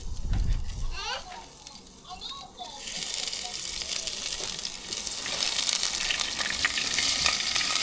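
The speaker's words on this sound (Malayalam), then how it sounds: "നന്നായിട്ട് നമ്മൾ പച്ചമണം മാറുന്ന വരെ ഒന്ന് ഇളക്കി കൊടുക്കണം" Shallots, green chillies, crushed ginger and garlic fry in a pan, a close hissing sizzle that grows louder and brighter after a few seconds, with brief voices and a child's sounds near the start.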